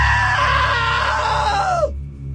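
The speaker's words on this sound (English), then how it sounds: "Now that was a great scream." A long, loud scream from a man in the video game What Remains of Edith Finch, a sustained wail that falls in pitch and cuts off sharply, heard alone with no talk.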